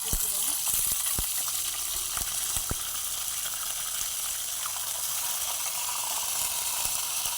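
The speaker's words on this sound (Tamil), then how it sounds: "எண்ணெய் சூடாயிடுச்சுங்க கருவேப்பிலை போட்டுக்கிறோம்" Fish frying in hot oil with curry leaves, a steady loud sizzle and hiss with a few sharp crackles and pops early on, and a voice speaking faintly underneath.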